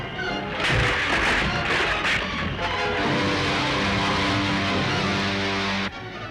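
Explosions from bombs dropped by attacking spaceships in a 1940s science-fiction film serial, a series of heavy booming crashes and rumbling blasts that fill the scene almost continuously, loud and close, with no voices over them.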